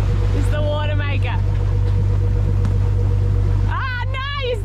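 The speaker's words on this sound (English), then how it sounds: "Yeah, it's the water maker." A watermaker runs aboard a sailing catamaran, giving a steady low hum with a constant tonal drone that continues throughout, while people talk over it near the start and again near the end.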